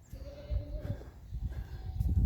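Sheep bleating out in a grazed winter field, a short wavering call heard at moderate distance over low rumbling wind noise and outdoor handling sounds.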